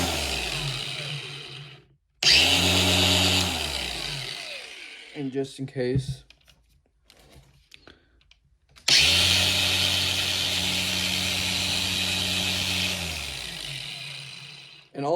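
Bauer 20V cordless 4-1/2 inch angle grinder spinning up twice to a loud, steady whine, each run winding down afterwards, with a short spoken remark and quiet handling between the runs.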